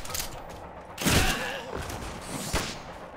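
Gunfire in the 2020 top-down action game God's Trigger: two sharp, loud bursts about a second and a half apart over a low background, with no talk.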